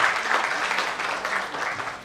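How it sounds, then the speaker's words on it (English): Conference audience at a Hyderabad event applauding steadily, a dense wash of clapping that stays loud and even throughout with no pauses. "Please give a huge round of applause for Mr. Samiran Gupta"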